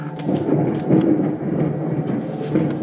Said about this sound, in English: Bit of a thunderstorm.